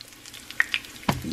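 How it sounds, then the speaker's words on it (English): Oil sizzling and crackling in a pan as pancake batter cooks, with a few sharp pops and spits close by. "before that oil get too hot. See it? Sizzle!"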